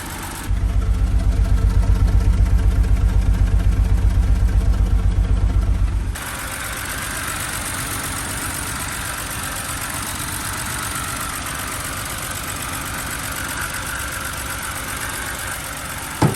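A BMW engine idles steadily after a valve cover gasket replacement, a continuous even hum that shifts in tone partway through and holds alone with no talking.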